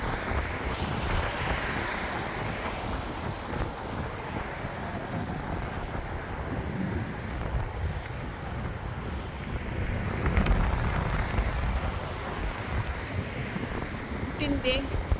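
Strong, cold wind blows outdoors in Wellington, New Zealand, near the choppy waterfront. It makes a loud, steady roar and buffets the microphone for the whole stretch, with a stronger gust swelling near the end.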